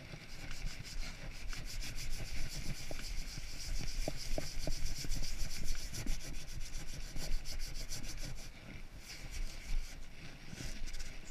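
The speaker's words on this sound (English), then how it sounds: "For all you that are critical, this is a sanding sponge." A sanding sponge rubbed back and forth over wood in a garage workshop, giving a steady, close, continuous scratchy rasp with no talking.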